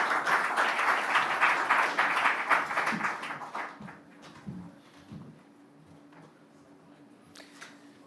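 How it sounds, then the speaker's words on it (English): At the commissioning of a Zenith Bank branch in Manchester, a small audience claps briefly, moderately loud, then fades to scattered claps and room noise with faint camera clicks. "A round of applause for her."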